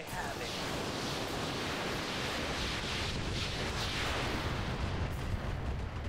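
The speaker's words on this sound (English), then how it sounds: "So we're going to fire with everything." Mech weapons all firing at once in the RogueTech video game: a dense, continuous roar of booming blasts and rumbling explosions, loud and unbroken throughout.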